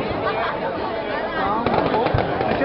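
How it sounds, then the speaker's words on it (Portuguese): New Year firecrackers and fireworks going off at Mongaguá, a continuous crackling rattle with a sharp bang near the end, heard amid crowd chatter. "É bombinha aqui, ó."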